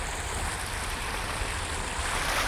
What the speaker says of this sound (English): Then you can see the water, it goes through from the second water channel and to this water channel.